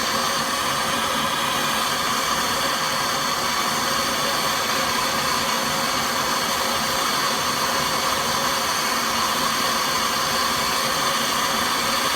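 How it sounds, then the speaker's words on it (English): A MAP gas torch heats a stuck exhaust manifold on a 6V92 diesel engine, giving a continuous, loud, steady roaring hiss that holds unchanged throughout with no talking. "Some MAP gas torch"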